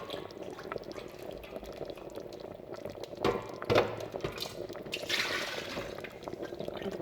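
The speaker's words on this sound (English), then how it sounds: "the boiling water out of the base of the Mr. D thermal cooker" Boiling water tipped out of the base pot of a Mr. D thermal cooker, a steady low gurgling splash with a few louder sloshes, fairly quiet and continuous.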